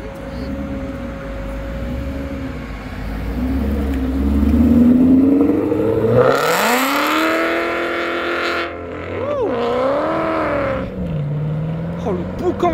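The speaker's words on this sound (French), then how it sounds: "Toyota américaine qui va nous faire un départ avec une Shelby GT500 en première ligne." A Shelby GT500 leading two Camaros off the line at a supercar meeting: engines idle and rumble, then rise into a loud, climbing revving roar that sweeps past and fades, with crowd voices in the background.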